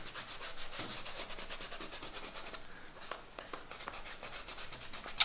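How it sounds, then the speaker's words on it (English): A kneaded eraser rubs out graphite pencil lines on paper in soft, rapid back-and-forth strokes, giving a faint, papery scrubbing that goes on without a break. "I'm going to take my trusty kneaded eraser and I'm going to eliminate the graphite"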